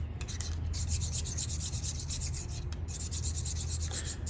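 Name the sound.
sharpening a meat grinder plate and blades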